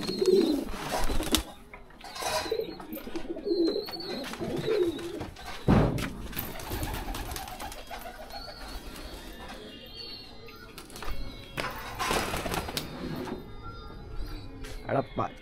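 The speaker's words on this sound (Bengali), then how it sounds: "এটা তো আমার বাড়ির ফেমাস পায়রা" Pigeons cooing at a house, low soft coos at intervals mixed with wing flutters and household bumps, while a person talks through much of it.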